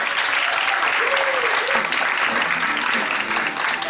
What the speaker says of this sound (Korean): 더 큰 박수로 격려해 주시기 바랍니다